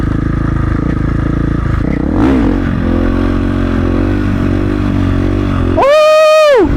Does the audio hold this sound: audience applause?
no